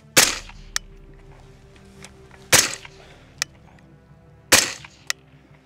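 Three sharp rifle shots from an 18-inch SPR rifle fitted with an optic, loud and close, spaced about two seconds apart, each a hard crack with a quick decay, and fainter distant impact or echo snaps trailing after each one.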